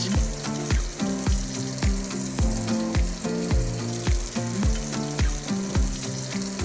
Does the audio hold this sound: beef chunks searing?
yes